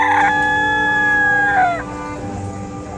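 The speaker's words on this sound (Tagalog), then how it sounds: "Kinabukasan, nagising si Icaro sa tilaok ng manok." A rooster crows close and clear, one long drawn-out cock-a-doodle-doo that rises and then trails off, with no voices in the moment.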